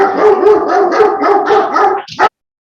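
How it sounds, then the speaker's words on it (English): Dogs barking, a rapid series of about eight loud, close barks in quick rhythm, ending with a brief yelp before silence. "the barking dogs means it's time to wrap up"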